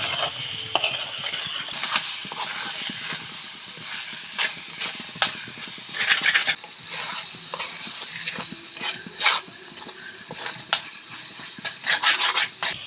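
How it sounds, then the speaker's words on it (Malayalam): Onion and tomato sauté in a pan for chicken curry, giving a steady hissing sizzle broken by frequent stirring scrapes from a spoon. The sound is close and continuous, with no talking. "തക്കാളിക്കോട് ചേർത്തിട്ട് എല്ലാം നന്നായിട്ട് വഴറ്റിയെടുക്കാം"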